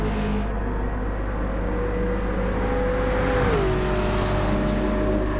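Race cars in Gran Turismo drag racing side by side toward the finish line at Fuji, a steady loud engine drone under full throttle with one engine's pitch dropping as it shifts gear.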